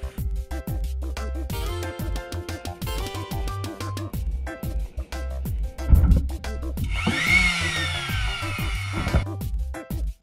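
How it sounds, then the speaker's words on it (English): A wooden fish hook pendant held in a vise is worked with files and sandpaper, producing close, irregular rasping strokes of varying length with brief pauses between them, and no talk. "now I'm just gonna use some files and some sandpaper to smooth everything out"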